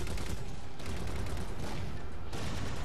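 Covenant enemies fire on the player in Halo 4, a dense, continuous barrage of energy weapon shots and crackling bursts that stays loud and unbroken across the whole moment.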